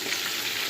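Food fries in a pan with a brief, steady, dense sizzling hiss, close and continuous throughout.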